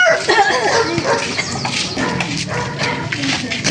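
Dog barking and yipping outdoors along a roadside in the Philippines, a few close excited barks mixed with whimpers, under and between people talking.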